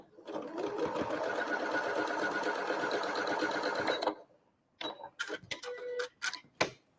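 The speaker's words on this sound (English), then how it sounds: "And we'll sew that 1/4 inch seam." Sewing machine stitching a quarter-inch seam on a quilt block, a fast, steady whirring chatter for about four seconds, then stops, followed by a few short clicks and handling noises.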